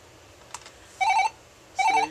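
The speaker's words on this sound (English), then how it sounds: "I got a phone call" A telephone rings for an incoming call, two short trilling bursts about three-quarters of a second apart, fairly loud and close, with a faint click just before.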